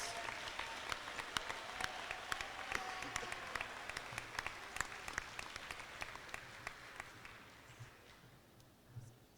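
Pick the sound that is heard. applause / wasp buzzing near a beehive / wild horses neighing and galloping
applause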